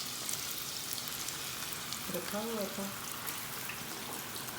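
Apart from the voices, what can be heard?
onions frying in hot oil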